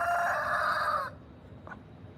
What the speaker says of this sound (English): I do love our roosters.